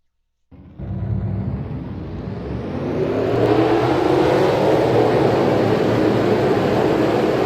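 Race car engines in a racing video game roar to life after a moment of silence, building into a loud, sustained rolling drone that swells and holds steady.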